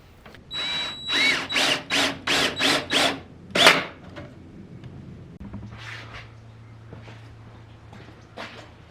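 A power drill whirs in a rapid series of short pulses, then one longer burst, driving a 3-inch number 10 deck screw, followed by a low steady hum and faint rustling; close by, no speech.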